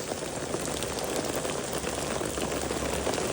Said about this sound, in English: the rain is just coming straight down, and it's kind of heavy